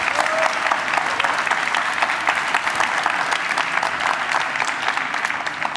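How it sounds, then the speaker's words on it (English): An audience at a startup conference applauds after a talk, with dense, even clapping at a steady level that holds throughout. "round of applause for Aleksander"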